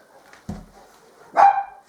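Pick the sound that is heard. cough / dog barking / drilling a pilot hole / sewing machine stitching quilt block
dog barking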